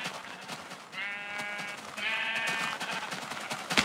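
Minecraft sheep bleat in two sustained, wavering calls, one after the other, over a busy game soundscape with steady background clatter.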